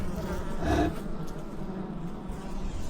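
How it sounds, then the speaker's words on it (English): Steady buzzing from many bees on top of a hive's inner cover fills the whole clip, a dense low drone with a brief louder swell near the start. "Bees on the top, bees on the inner cover."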